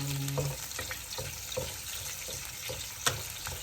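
Cooking oil heating in a frying pan, giving a faint, steady sizzle and crackle with a few small clinks, quiet and close, no talking.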